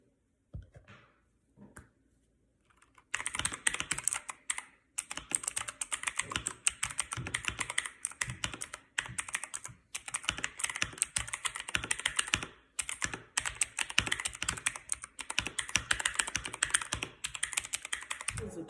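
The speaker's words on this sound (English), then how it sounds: "I'm going to be speed typing on these" Rapid, continuous clacking of a mechanical keyboard being typed on fast and close, with brief pauses between bursts after a quiet start.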